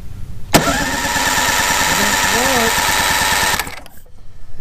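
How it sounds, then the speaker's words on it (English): A 1982 Mercury 7.5 hp two-cylinder outboard is cranked over for about three seconds, giving a loud, steady rapid chugging with a whirring drone, and it stops abruptly without catching. "Just turn it over and see what I get, see if I get spark."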